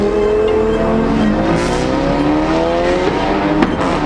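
A Lamborghini supercar drives a winding mountain road, its engine droning loud and steady with shifting revs as it climbs and rounds bends, close up and continuous with no talking.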